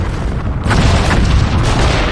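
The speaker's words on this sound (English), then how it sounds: "Deceptively small actual explosions, but the shrapnel goes for miles apparently" Loud, dense booming rumble of synthetic video game explosions with a low, sustained roar and scattered blasts, no voices.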